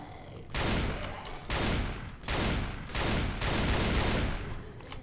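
Bursts of video game gunfire in Dead Before Dawn come in about five loud, dense volleys with short gaps between them, close and overpowering.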